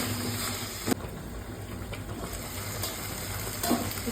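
Tomatoes sizzle in frying masala for a Nellore fish curry, a steady close crackle with a few sharp clinks of a spoon against the pan as it is stirred.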